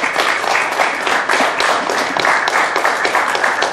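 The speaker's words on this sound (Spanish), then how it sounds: "voy a pedir un fuerte aplauso para todos ellos, Federico Raboso, Leandro Ponce" Loud, dense applause from a crowd at a municipal event in Salto honoring local cyclists, continuous and close throughout with no voices over it.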